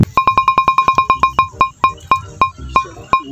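A phone rings with an incoming call: a bright electronic ringtone plays as a fast string of sharp, evenly spaced beeps, then slows into wider-spaced tones, loud and close with no talking over it.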